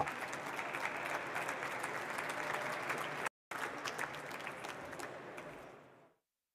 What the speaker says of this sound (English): once again, let's give Glenn a round of applause